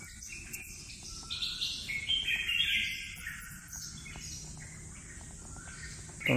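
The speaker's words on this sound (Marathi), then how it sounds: "तुम्ही पक्ष्यांचा आवाज ऐकू शकता." Birds chirping outside a temple: several bright, overlapping tweets and calls from nearby and farther birds, strongest in the middle, over a faint steady insect hum and outdoor ambience.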